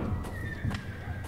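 Nervous horses in the Secret Files 3 video game, a sharp whinny with snorting and hoof clops close by, brief and fairly quiet.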